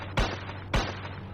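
Two sharp, loud gunshots about half a second apart in a Shinchan zombie shooting video game, each a punchy blast with a short decaying tail over a steady background hum.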